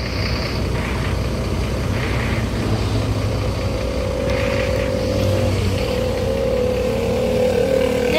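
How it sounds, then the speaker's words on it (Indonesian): A PO. Limbersa long-distance bus on the Palembang route idles with its engine running, a steady low rumble with a faint whine rising partway through, continuous and fairly close, with no talk. "Suara mesinnya masih garing, teman-teman."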